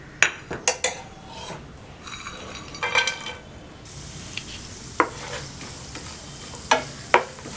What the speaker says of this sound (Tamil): இப்போ நெய் சூடாகிடுச்சு, நம்ம நட்ஸ் எல்லாம் போட்டுக்கலாம்